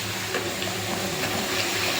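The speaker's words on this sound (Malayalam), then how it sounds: "ഇളക്കി കൊടുക്കാം" A mango pickle mixture sizzles gently as it is stirred and fried in a pan, with a soft, continuous crackle and light scraping over a couple of seconds.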